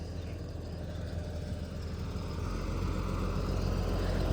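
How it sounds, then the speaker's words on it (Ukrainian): A tractor with added ballast runs steadily while pulling a five-ton concrete airfield slab measuring two by six metres, its low diesel engine drone rising slightly in intensity partway through. "чи потягне трактор клас п'ятитонну аеродромну плиту 2 на 6 метра"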